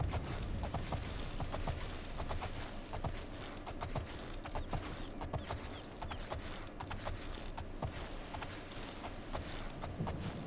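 Horse hooves clip-clopping in The Elder Scrolls IV: Oblivion, a steady, fairly quiet trotting rhythm with faint creaks, alone with no talk.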